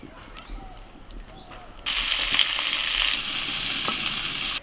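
Eggs frying in a pan for a one-pot rice, egg and vegetable dish: a loud, steady sizzle starts abruptly partway through and holds to the end, with faint clatter before it.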